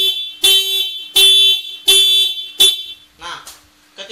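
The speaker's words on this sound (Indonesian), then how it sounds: "Nah ketika motor nyala, alarmnya itu kita klik nih." A motorcycle alarm on a running motorbike chirps loudly four times in a steady rhythm, each a sharp, horn-like electronic burst, followed by softer, shorter electronic sounds.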